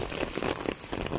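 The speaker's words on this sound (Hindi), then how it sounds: "बहुत तेज़ है बारिश, बार बार तेज़ हो रही है फिर हल्की हो रही है" Heavy monsoon rain falls on a rooftop, a steady dense patter that keeps swelling and easing, close and continuous with no voices.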